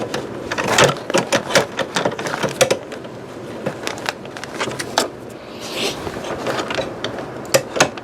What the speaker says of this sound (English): I'm going to sew my logo on here